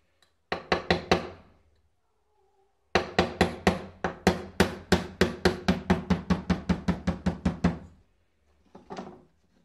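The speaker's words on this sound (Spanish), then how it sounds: "Vamos a apoyarnos por aquí para dar unos ligeros golpecitos." Light hammer taps driving the pin out of a Star .22 Model F pistol: a short burst of quick taps, a pause, then a long steady run of about twenty sharp metallic knocks, close and crisp, with a final faint tap.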